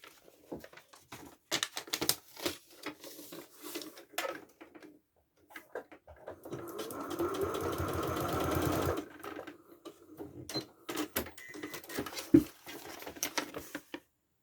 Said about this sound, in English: I'm going to sew along this line here